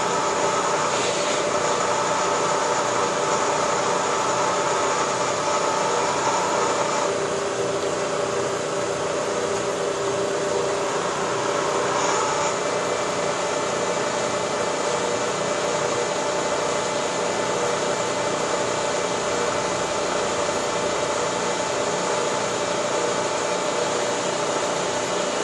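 A hole cutter bores picket holes through metal tube held in a jig, a continuous loud grinding whine that holds steady throughout with only slight shifts in tone.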